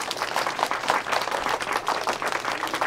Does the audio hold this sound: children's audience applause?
yes